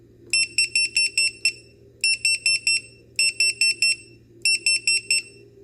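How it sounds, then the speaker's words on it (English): A shrill electronic quadcopter buzzer at full speed beeps in rapid bursts of about five or six pulses, repeating four times with short gaps, over a low steady hum. "Lucky buzzer sound."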